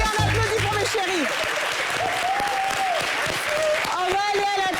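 A studio audience at a French-language TV talk show claps loudly and steadily throughout, with a voice speaking over the applause.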